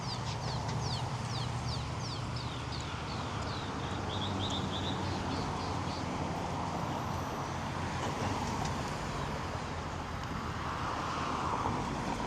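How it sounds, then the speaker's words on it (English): Birds chirp and sing in quick repeated phrases along a street in Pasadena, Los Angeles, steady and moderately near over a constant low hum of city traffic and a passing aircraft. "listen to the bird song"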